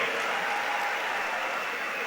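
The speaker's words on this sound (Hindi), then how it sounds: "जोरदार ताली बजाइए" Audience applause at an event in Rahat Indori's city, a steady wash of many hands clapping continuously, fairly loud and even with no pauses.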